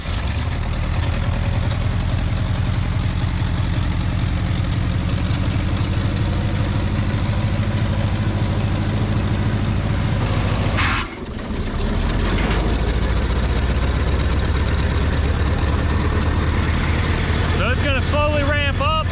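A junkyard wood chipper engine runs loud and steady at a rough idle, briefly dipping partway through before picking back up, with rattling mechanical noise near the end.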